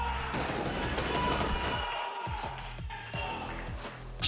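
Rapid gunfire from Rainbow Six Siege X during an esports group-stage match, sharp repeated shots in quick bursts over a steady background of game ambience, with a brief loud hit near the end.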